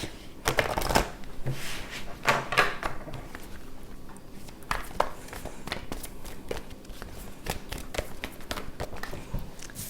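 Oracle cards being shuffled and drawn during a weekly tarot-style reading, with close, dense riffling and flicking bursts that recur throughout, quiet between flurries and free of talk.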